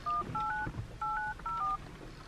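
A phone number is dialed on a telephone, producing a quick series of distinct touch-tone beeps in short bursts, clear over faint background noise.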